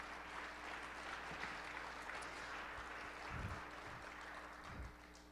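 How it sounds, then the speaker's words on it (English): An audience applauding the governor at an IP month celebration, a faint, distant, continuous patter of clapping with a few low thumps. "let's give our governor a round of applause"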